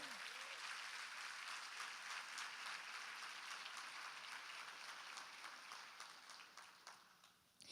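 A church congregation clapping together during a sermon, a steady, moderately distant wash of applause that holds for several seconds and then fades toward the end.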